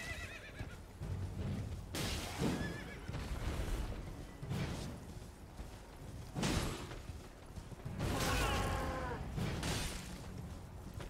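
A horse in the video game Elden Ring neighs and whinnies several times in loud, sharp bursts, mixed with hoof clatter and whooshing combat sounds between the calls.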